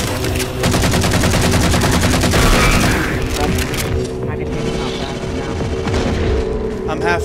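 Turret gunfire in the Halo 4 video game, a loud, dense stream of rapid automatic shots and booms that fills the first half and then eases into lower rumbling, with players talking over it.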